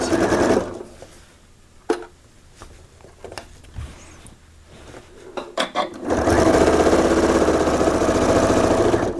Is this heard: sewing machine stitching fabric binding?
yes